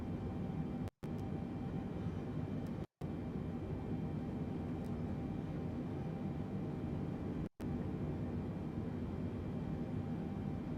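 A Boeing airliner cruises in flight within Microsoft Flight Simulator 2020, giving a steady, continuous cabin drone of engine and airflow noise that briefly cuts out three times.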